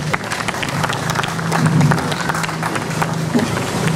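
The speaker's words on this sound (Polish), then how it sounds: "Brawa, proszę Państwa." Concert audience at the Blues nad Okszą blues festival in Kłobuck applauding, a steady dense wash of clapping from a crowd that holds at an even level throughout, with a faint voice underneath.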